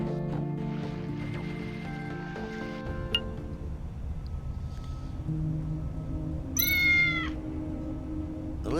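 Cat meowing in the video game Tales of the Neon Sea, a single clear, close meow late in the clip over soft ambient game music and faint clinks.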